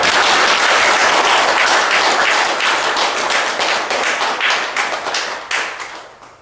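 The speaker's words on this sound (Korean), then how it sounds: "하느님 앞에서 우리 큰 박수로 우리 서로를 한번 격려해 봅시다" A church congregation in Korea breaks into loud applause, many hands clapping close and full before thinning and tapering off at the end.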